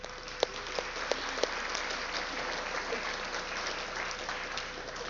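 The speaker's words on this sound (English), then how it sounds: "Give them a round of applause." A crowd applauding at a school sports assembly, many hands clapping in a continuous, even roar with a few sharper close claps standing out near the start.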